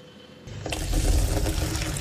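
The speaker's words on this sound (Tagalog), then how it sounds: "paano kung mistulang burak ang lumalabas sa inyong gripo?" Muddy water from a PrimeWater tap in Pampanga gushes out after a brief quiet start, then runs as a steady, close, loud splashing stream into a basin.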